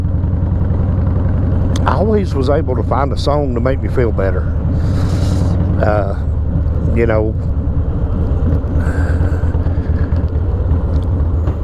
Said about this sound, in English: there goes a dirt track race car